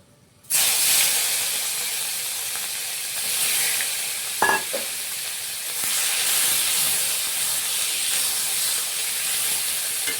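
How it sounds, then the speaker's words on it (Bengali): Ground onion paste fries in hot oil over tempered spices for a katla fish kalia. A steady loud sizzle and hiss bursts in abruptly and continues, with a brief utensil clink partway through. "পেঁয়াজটা 1 থেকে 2 মিনিটের মতন ভেজে নেব"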